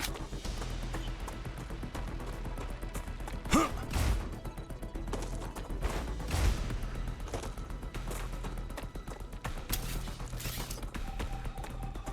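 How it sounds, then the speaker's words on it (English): A weapon reloads in the video game Star Rupture with mechanical clicks and a couple of louder metallic clacks, set against a steady background of game noise. "Reloading."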